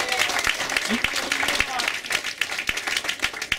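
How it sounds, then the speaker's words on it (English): Audience applause fills an announcement event for a Queens Borough President candidacy, with dense, steady clapping and crowd noise throughout, close and loud, punctuated by a few sharper individual claps. "A big round of applause to my team that put this together."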